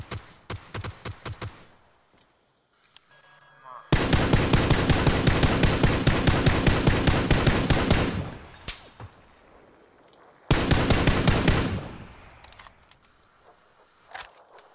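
Rapid bursts of automatic gunfire in the video game PUBG, loud and close, in several long volleys separated by brief pauses, with a few single shots at the start.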